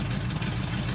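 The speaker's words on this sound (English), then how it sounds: "The V8 engine noise, of course, is absolutely incredible" A Pontiac GTO V8 idling steadily, a deep continuous low rumble with a regular loping pulse, close and unbroken for the full second with no talking.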